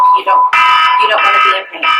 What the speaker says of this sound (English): That's my alarm letting me know it was Malachi's nap time.